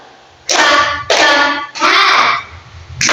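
A group of children in an elementary classroom clap their hands together in three separate rounds, each a short loud flurry of claps with quiet gaps between.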